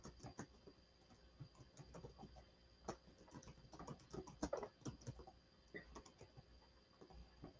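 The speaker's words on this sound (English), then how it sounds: "It doesn't like me typing" Faint, quick patter of keys on a computer keyboard, in irregular bursts of clicks against a low room hum.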